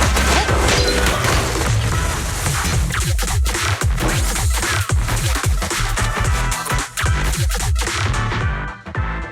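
Sustained gunfire in the mobile game Zenless Zone Zero pours out loud and dense, with heavy booming impacts and rapid cracks running without pause until a sudden cutoff.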